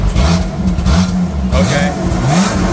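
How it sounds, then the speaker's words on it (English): Supercharged V6 in a Lotus Exige revved a couple of times with the exhaust flap closed, a loud rising and falling engine note heard close by alongside voices. "And can give it a couple of revs. Turn the flap off."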